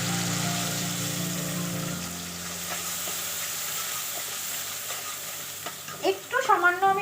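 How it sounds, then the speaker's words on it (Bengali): Poppy seed paste fries with softened tomatoes in a pan until oil separates at the sides, producing a steady close sizzle that ends with several brisk stirring scrapes. "টমেটোর সাথে পোস্তটা কষাতে কষাতে দেখো সাইড দিয়ে তেল ছেড়ে এসছে"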